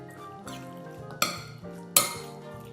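Pork rib marinade with chilli, oil and sesame oil being mixed in a bowl, with a run of close clinks and scrapes of a utensil against the dish, two sharper knocks standing out, and no talking.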